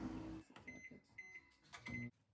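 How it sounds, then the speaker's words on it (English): Microwave oven heating sweet potatoes, a steady hum that runs loud for about half a second, drops to quiet intermittent sounds with light tonal beeps, then swells again briefly before stopping. "So I'm just gonna microwave them."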